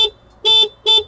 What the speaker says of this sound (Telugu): చాలా లౌడ్ హార్న్